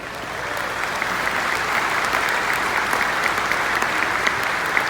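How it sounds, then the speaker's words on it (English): A large conference audience at a security keynote claps in sustained, even applause, many hands blending into a steady rushing wash with scattered sharper claps. "Let's give them a round of applause."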